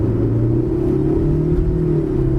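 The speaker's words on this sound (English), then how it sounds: "let's just go up and see how this CVT behaves. Yes, it's going to be a bit noisy" A 2013 Proton Saga FLX with a 1.6 engine and CVT gearbox climbs a hill, giving a steady, fairly loud engine drone with a sustained low hum and no talk over it.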